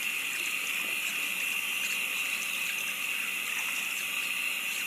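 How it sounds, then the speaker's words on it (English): Tap water runs continuously into a sink with a steady, close hiss and splash, constant in level, with no talking. "Water is running clear."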